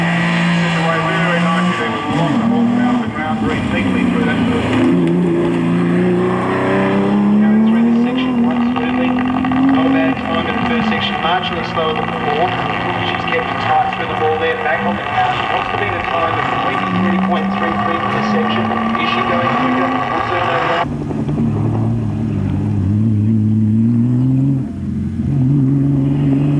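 A 1998 hillclimb race car at Collingrove, South Australia, roars loudly up through the gears, its engine pitch rising and falling in repeated sweeps before cutting to a lower drone near the end, close and dominant throughout.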